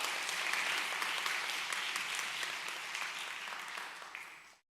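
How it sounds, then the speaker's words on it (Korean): A church congregation at a Korean college ministry service applauds in a dense, steady burst that fades out over a few seconds. "격려와 사랑의 박수 보내겠습니다."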